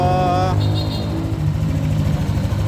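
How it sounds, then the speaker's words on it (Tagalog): A Yamaha NMAX v2 scooter engine, which has a ticking noise, runs steadily at a low idle, close by, with a brief higher rev fading out near the start. "pakinggan natin yung makina"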